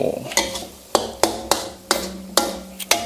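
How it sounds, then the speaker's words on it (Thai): A spatula scrapes and clanks against a pan as canned fish chili paste with lime is stir-fried, giving about eight sharp, rhythmic metallic taps close by. "แล้วก็ ผัดคลุกเขาให้เข้ากัน"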